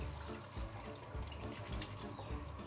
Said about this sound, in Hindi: ये देखो पानी निकाल लिया है मैंने